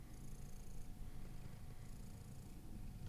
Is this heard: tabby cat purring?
yes